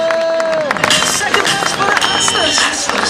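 Loud crowd noise with clapping and shouting voices from spectators applauding two under-13 youth football teams at an amateur end-of-season challenge, a dense continuous hubbub with a whistle-like tone near the start.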